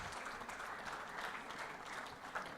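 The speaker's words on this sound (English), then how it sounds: "Come on, keep the claps going, guys." A conference audience keeps up clapping as panelists are called on stage, a brief, even rustle of many hands at moderate, somewhat distant level.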